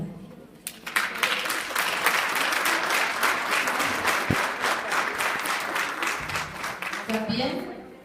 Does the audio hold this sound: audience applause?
yes